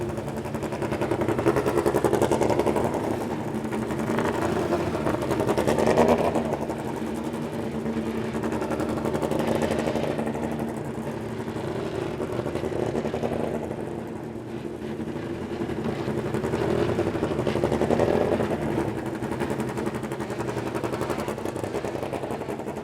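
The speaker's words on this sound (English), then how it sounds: "as you can hear, engines are fired, cars rolling onto the racetrack." Indy Pro 2000 race cars rolling onto the Portland racetrack with engines fired, a steady loud blend of several engines droning and revving continuously throughout, with no talk.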